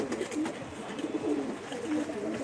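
Pigeons coo softly in low, rolling calls that overlap continuously, with many birds around in a busy outdoor flock and no voices.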